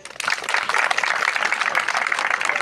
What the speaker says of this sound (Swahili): Wapi makofi ya principal?